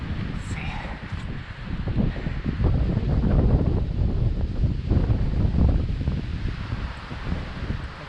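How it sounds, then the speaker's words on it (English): Strong wind gusting across a mountain ridge near the last climb before South Hancock, a loud continuous roar with rustling trees that swells and eases in fits. "And it is starting to blow a gale up here."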